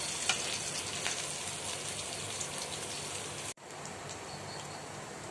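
Garlic and ginger sautéing in a pan for mutton dalcha, a continuous hissing sizzle at a steady level with a momentary break partway through.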